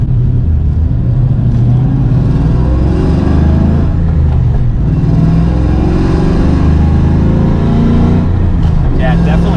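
A Coyote-swapped 1985 Mustang notchback with a Flowmaster exhaust rumbles and revs steadily with a deep, raspy exhaust tone, loud and close throughout, with a brief higher whine near the end.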